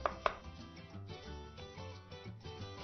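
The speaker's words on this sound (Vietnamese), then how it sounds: "Hành tây tôi sẽ cắt sợi" A knife slicing an onion into strips on a cutting board, a few sharp close chops near the start and one at the end, with quieter cutting sounds in between.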